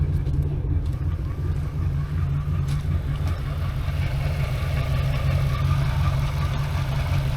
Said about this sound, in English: I've got rough idle.